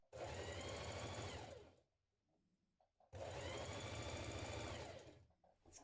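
A sewing machine stitches the underarm seam of a McCall's 7357 blouse in two close bursts of steady whirring, separated by a short quiet pause.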